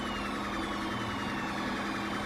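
An ambulance siren in a convoy in GTA V, a continuous wailing tone over steady traffic and engine noise, moderately loud with no voices.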